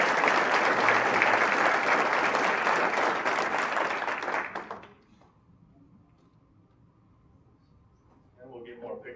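A luncheon audience at a scholarship event gives loud, dense, sustained applause for the winners and nominees. It fades out after about five seconds into quiet room tone, and a voice begins speaking near the end.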